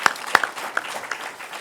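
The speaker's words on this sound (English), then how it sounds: "Let's give him a round of applause." Scattered applause from an audience at a government school commission event, a few sharp nearby claps standing out over a faint, thin patter that quickly tapers off.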